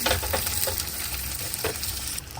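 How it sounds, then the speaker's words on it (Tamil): Small onions sautéing in hot oil in a pan, a dense continuous sizzle with a few stirring scrapes, close and steady over a short stretch, no talking. "இது கொஞ்சம் நல்லா வதங்கட்டும்."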